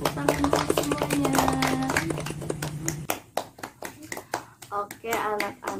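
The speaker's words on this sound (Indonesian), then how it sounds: "kita tepuk tangan dulu semuanya" Fourth-grade children in a classroom clap their hands together in sharp, distinct bursts, with some rhythmic clapping and childlike voices chattering and calling out around the claps.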